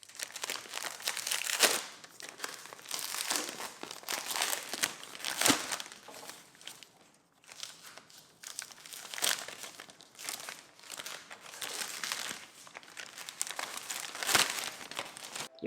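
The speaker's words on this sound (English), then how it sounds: "gotta do some plastic ASMR for the removal" Plastic wrapping on a Logitech G512 mechanical keyboard crinkles and rustles in bursts as it is removed, close up, with short pauses between handfuls.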